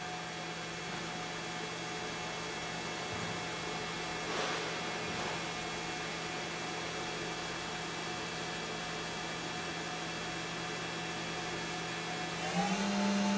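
Spindle of a MAQFER QP-1620L high-speed machining center spinning at 10,000 RPM, a steady faint whine and hum with layered tones and background noise, unchanging until a brief shift near the end.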